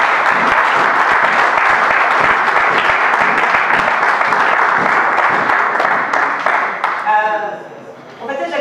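A church congregation claps and cheers for the Lord in a dense, loud wall of applause that holds steady, then thins toward the end as a voice begins to speak.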